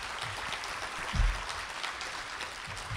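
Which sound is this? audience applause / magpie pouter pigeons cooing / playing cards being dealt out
audience applause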